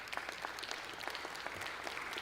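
Applause at a political hearing, many hands clapping in a steady dense patter, moderately loud and even, with a faint murmur of crowd beneath.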